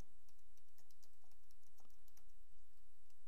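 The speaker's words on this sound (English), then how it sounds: "Type something in the text." Quiet, close clicking of a computer keyboard as text is typed into an email message, irregular keystrokes in quick bursts against a faint hum.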